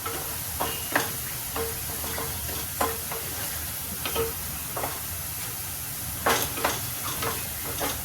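Garlic and onion paste fries in a pan on full heat with a steady close sizzle and hiss, broken every second or so by scraping clicks of a spoon stirring against the pan.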